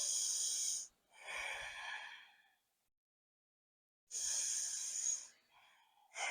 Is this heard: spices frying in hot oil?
no